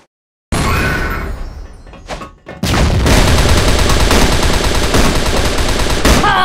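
A grenade blast followed by sustained automatic gunfire in the game CrossFire, loud and dense, rattling continuously after a brief quieter gap.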